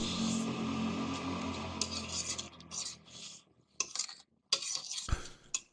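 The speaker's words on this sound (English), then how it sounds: "I hear you clanking your pans" Pans and cutlery clinking and scraping, picked up over a gaming voice chat. Irregular metallic clanks and rubbing come in short bursts between pauses.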